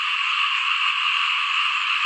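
Frogs and toads croak at night in a rice paddy as a dense, continuous chorus, loud and steady with no talking.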